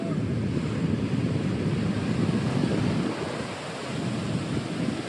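Ocean waves wash steadily onto a beach in Cape Town, South Africa, a loud continuous roar of surf with wind buffeting the microphone, easing slightly partway through before building again.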